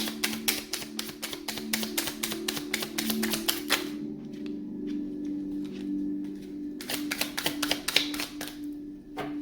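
Rapid rhythmic flicking and riffling of cards, with dense clicks, a short quieter pause, then another burst of shuffling, close up.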